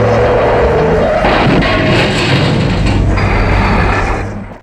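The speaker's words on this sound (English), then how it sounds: "you got a very nice variation on the car chase this time, with Bond driving a giant fuel truck" A giant fuel truck roars through a Bond film car chase, a loud, dense engine rumble with skidding and mechanical clatter that runs continuously, then fades out at the end.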